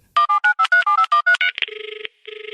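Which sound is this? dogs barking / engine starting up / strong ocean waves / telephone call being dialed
telephone call being dialed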